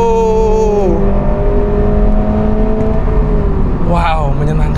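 A Subaru BRZ in track mode pulls hard, its engine tone climbing steadily, then dropping briefly before rising again near the end, heard close from inside the cabin under continuous road noise.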